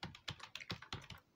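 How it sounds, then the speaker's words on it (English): Fingers type on a computer keyboard, with about eight quick, close, fairly soft keystrokes tapped in an uneven rhythm and no talking over them. "I'm typing all day."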